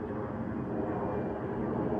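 An airplane passes high above the clouds near a canal-side walk, heard only as a steady, distant broadband rumble with no distinct approach or fade.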